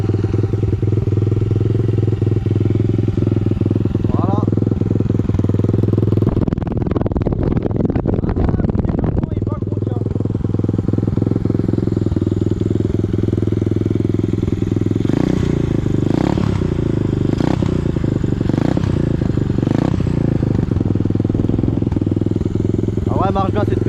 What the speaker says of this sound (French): Elle marche bien cette petite moto.